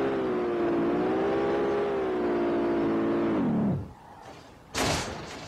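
Audi S4 Quattro engine in the SLRR racing game, a steady loud drone that holds for several seconds, then cuts off abruptly, followed by a brief sharp clatter.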